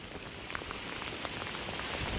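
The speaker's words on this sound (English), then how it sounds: "Here comes the rain." Steady rain pattering on a surface, a dense even patter with no voices, holding constant throughout.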